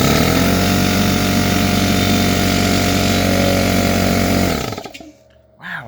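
An air compressor powered through a 1200W inverter runs loud and steady for several seconds, close by, then winds down and cuts off near the end.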